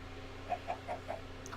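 Chickens in a dwarven survival video game give four quick, evenly spaced clucks, soft and close, over a constant low electronic hum with no talk.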